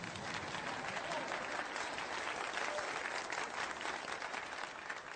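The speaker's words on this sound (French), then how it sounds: "Applaudissez" Steady, dense applause from a crowd in a film scene, continuous and even in loudness throughout with no break.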